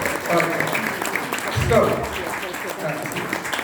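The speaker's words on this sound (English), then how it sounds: "big round of applause." Clapping from an audience, moderate and steady, with some voices mixed in over the applause.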